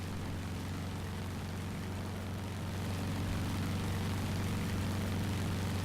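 A propeller-driven F4F-3 Wildcat fighter in the game War Thunder flies with its piston engine droning steadily, a loud continuous low hum that swells slightly partway through, with no talk.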